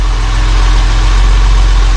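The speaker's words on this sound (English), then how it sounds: "the engine's hanging in the air, running" The engine of a 1971 Mercedes-Benz 280 SE W108 idles on a lift in a workshop, giving a loud, steady, close-up rumble with an even low-pitched throb and no talk.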